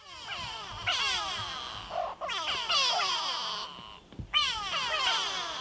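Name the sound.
go-away birds calling along a river in Kruger National Park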